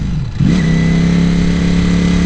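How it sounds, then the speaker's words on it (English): A 2018 Ducati Panigale V4 sport motorcycle revs hard, its exhaust climbing quickly into a loud, steady, close high-rpm drone that holds for about two seconds. "that exhaust, man, it's that classic Ducati sound, but it's just amped up even more"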